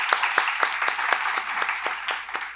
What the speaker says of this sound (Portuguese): também uma salva de palmas.